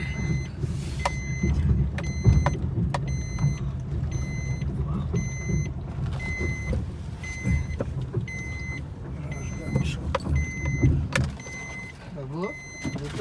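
A car being driven and parked: engine and road noise hum underneath while a regular series of short electronic beeps repeats through most of the stretch, with people talking over it.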